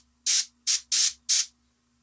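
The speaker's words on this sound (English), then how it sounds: "the color changes just a little bit each time I spray it" Airbrush spraying transparent Payne's Gray ink onto a miniature turtle tank model: four short, loud hissing bursts in quick succession, each lasting a fraction of a second, over a faint steady hum.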